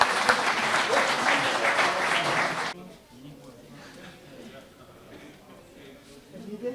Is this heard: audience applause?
yes